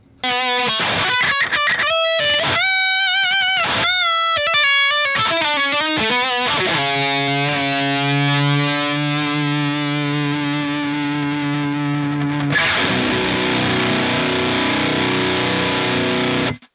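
Heavily distorted electric guitar through a Hades Ultra noise gate plays choppy bursts that cut off cleanly to silence, then holds long sustained chords and a final roaring crash.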